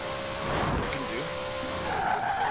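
A RTR Mustang Spec 5 drifting in Forza Horizon 4, its tires squealing and skidding steadily over the engine's drone, with a voice speaking over it.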